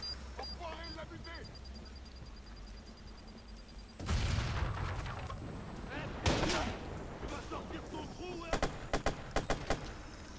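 Gunfire in the video game Watch Dogs: a heavy burst of shots breaks in after a quieter stretch, followed by further loud blasts and a rapid string of sharp cracks near the end, with game sounds throughout.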